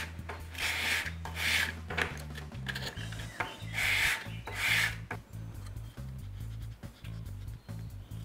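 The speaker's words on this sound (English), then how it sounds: "just give this a couple passes on some sandpaper on each side" Sandpaper rubs back and forth across a wooden piece for a headphone stand, making several close, rhythmic rasping strokes in bursts with brief pauses between passes, over a low background tone.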